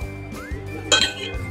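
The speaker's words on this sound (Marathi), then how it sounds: "असं पूर्ण पीठ मिक्स करायचं।" A whisk or spoon mixing gram flour into thick buttermilk in a metal bowl, with a low steady hum underneath and a single bright clink against the bowl's side, close and brief.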